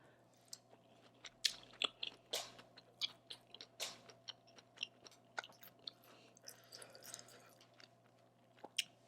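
Someone chews spicy sausage from a Cajun seafood boil close to the microphone, with soft wet squishes and intermittent sharper crunchy bites over nine seconds of quiet, with no speech.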